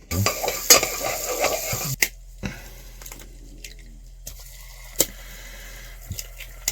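Butter dumped into a saucepan for French toast: a busy clatter of pan and utensil for about two seconds, then a quiet stretch broken by a few sharp clicks and knocks.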